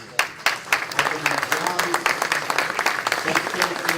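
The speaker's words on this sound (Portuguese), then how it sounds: "uma salva de palmas" A Military Police event audience applauds at close range, a dense steady clatter of many hands running throughout with a few sharper individual claps standing out.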